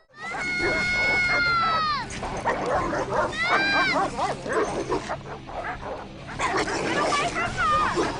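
Several dogs bark, yip and whimper loudly in a film scene, frantic overlapping barks with screaming-like cries mixed in, continuous and close.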